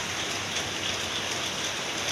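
Steady rain falls heavily outside a house, a dense, even hiss of drops pattering on surfaces throughout, close and constant with no voices.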